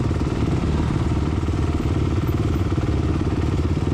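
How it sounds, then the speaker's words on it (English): Several motorcycle engines race close behind the rider mid-race, a loud, dense, steady roar with rapid mechanical pulsing and rumbling that holds without a break. "I hear like 3 or 4 engines right behind me, right there."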